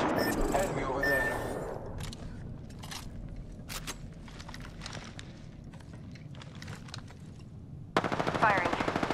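Weapons fire in Apex Legends: a dense burst of automatic gunfire opens, then scattered sharp single shots ring out, and a loud rapid volley returns near the end.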